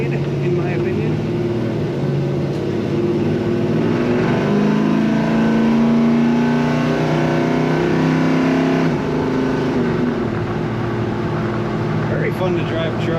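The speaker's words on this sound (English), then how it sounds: "This truck accelerates as if it may have a torque converter upgrade" A 1970 Chevrolet C10 pickup engine pulls up through the revs, a rising drone heard from inside the cab, with steady road noise underneath.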